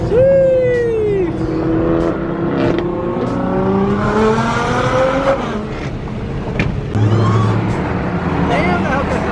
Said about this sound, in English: the Hellcat sounds crazy